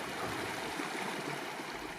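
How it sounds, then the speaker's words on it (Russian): Small streams of water from a hot salt spring trickle and babble steadily into shallow pools, a soft continuous rush with no voices. "в которые маленькими ручейками поступает вода из горячего соляного источника."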